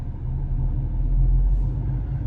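A garbage truck rumbles past at close range, its low engine drone steady and heavy for a couple of seconds.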